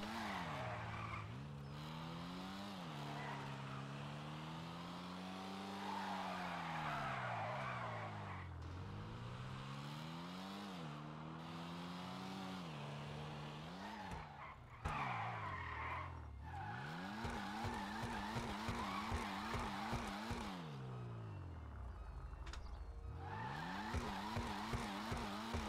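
A car drifting in GTA Online, tires screeching in long sliding squeals over a revving engine that rises and falls, loud and continuous throughout, with no voices.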